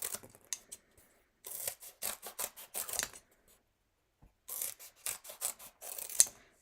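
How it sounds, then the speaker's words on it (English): Wand scissors cut card paper into four pieces, close and crisp, with quick runs of snipping in two bursts split by a short quiet pause. "take a pair of wand scissors, and I cut them into 4 pieces"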